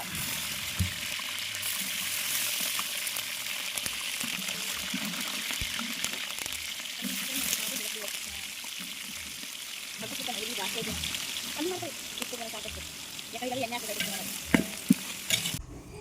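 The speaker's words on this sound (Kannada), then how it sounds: "ಈಗ ಈರುಳ್ಳಿನ ಚೆನ್ನಾಗಿ ಫ್ರೈ ಮಾಡ್ಕೊಳ್ಳೋಣ" Onions frying with curry leaves and green chillies hiss and sizzle loudly and steadily in the pan, with scraping stirs throughout and a voice speaking briefly in the background.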